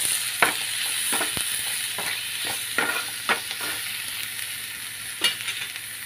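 Turmeric and ginger garlic paste fry in a pan with a soft, steady sizzle, broken by repeated scraping and clacking strokes as a spoon stirs at an uneven rhythm close by.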